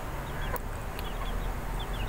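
Chickens, mother hens and growing birds, cluck softly in the background of a farm where maggots are raised, a few faint scattered calls over a steady ambient hiss, with no speech.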